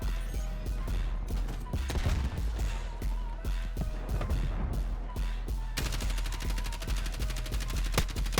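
Kilo 141 assault rifle built as a light machine gun, firing in a Black Ops 6 match: rapid bursts of automatic gunfire with sharp cracks, building into a sustained loud stream of shots near the end.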